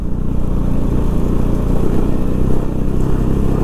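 A sports motorcycle rides over a badly potholed mountain road in Spiti Valley, giving a steady, loud engine drone with rattling clatter from the rough surface throughout, and no voices.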